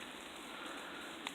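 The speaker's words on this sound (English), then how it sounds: "Well, it's definitely raining." Steady rain falls outdoors on a wet, windy day, a soft continuous hiss of drops with one brief tap near the end, heard alone without talk.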